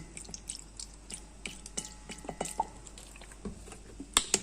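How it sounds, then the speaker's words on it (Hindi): Lemon juice drips and splashes in small, irregular wet spatters into a chicken marinade with green chili sauce, quiet and close, ending in a couple of slightly louder drops. "और इसमें डालूँगी मैं लेमन जूस।"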